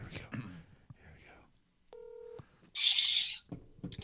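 Short bursts of telephone dialing tones from a phone placing a call, faint and brief amid quiet whispered talk, followed by a loud hissy burst.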